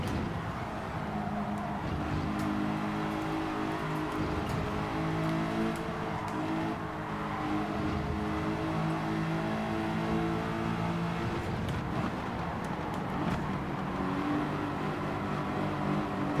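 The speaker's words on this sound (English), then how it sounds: "Little early upshift so I can downshift here and coast." A race car in Gran Turismo 7 drops a gear and coasts, a steady engine drone with shifting tonal harmonics, moderately close and continuous without sharp revving bursts.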